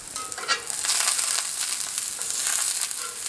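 Lion's mane mushroom seasoned with a barbecue-style rub sizzles in oil in a pan just after being flipped, a close, steady hiss with bright crackles and no voices.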